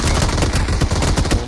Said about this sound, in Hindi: मैंने उस पर फायर किया